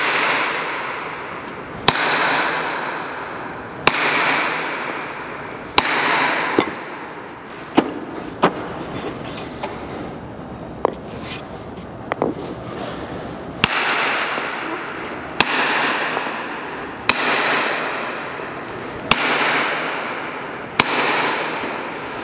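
Sharp blows of a hand scoring hammer strike natural stone one after another in a steady rhythm, each a hard crack with a short ring, close and loud, with a quieter patch of lighter taps midway.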